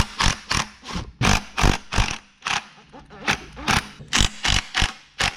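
Ratchet wrench backing out the pressure plate bolts on a 1964 VW engine, a close, loud run of sharp clicking bursts in quick repeated strokes with short pauses between, alone without talk.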